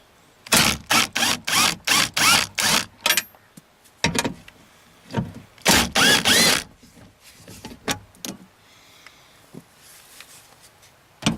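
Bolts on a rear window regulator of a 1999-2004 Jeep Grand Cherokee are loosened with a ratchet or power tool, heard as a run of short, rapid mechanical bursts followed by scattered clicks and handling noises, close and loud.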